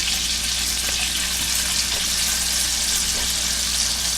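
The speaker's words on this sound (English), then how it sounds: "now you got you got the pot sizzling. You want to start putting your chicken in." Chicken pieces sizzling and frying in a hot pot for a stew with peas, a steady loud hiss with faint crackles throughout and no talking.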